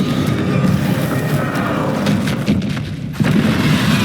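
A Confringo blasting-spell explosion in the Hogwarts Legacy video game, a heavy booming burst with a rumbling, noisy tail that fills the space. Another hit lands near the end.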